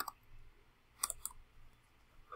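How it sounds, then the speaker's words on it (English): Laptop keyboard typing: a few quiet, quick key clicks in a short burst, close and faint, in a quiet room with no talking. "So that was me typing on my laptop keyboard."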